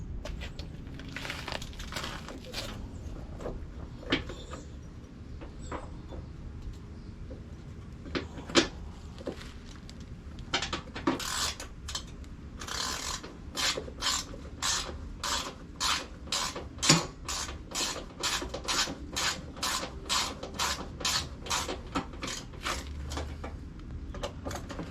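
Metal shields going back onto a John Deere LA105 riding mower deck, heard as close clanks and scrapes, then a long run of quick, even mechanical rattles like a ratchet driving bolts, loud and without talk.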